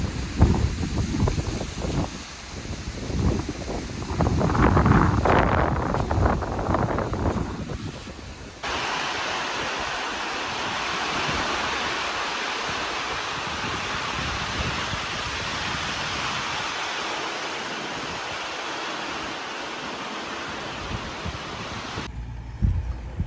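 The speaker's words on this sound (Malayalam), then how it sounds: "നല്ല കിടിലം മഴയാണ് വരുന്നത്" Heavy rain pours on a river in Kuttanad during a fishing trip by boat, a dense, steady hiss of downpour that holds evenly for most of the stretch, with wind buffeting the microphone early on.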